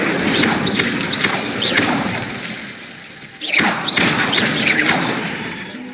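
Fire spell cast repeatedly in the video game Hogwarts Legacy, heard as a series of whooshing, crackling bursts with a heavier impact-like burst midway, over continuous game background sound.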